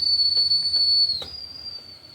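A high, steady idli cooker whistle sounds throughout, dipping slightly in pitch midway with a soft knock, fairly close.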